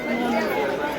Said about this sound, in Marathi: देवीचा वार असल्यामुळे गर्दी भरपूर आहे